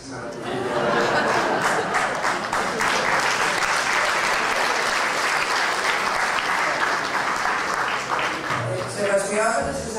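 Audience applause after a speech, dense sustained clapping from a large crowd that starts abruptly and holds steady for several seconds, with some chuckling and chatter mixed in before it fades.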